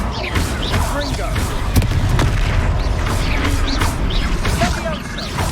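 Confringo fire spell explosions in the Hogwarts Legacy video game, heard as dense rumbling booms and crashes within a continuous loud battle mix of music and effects.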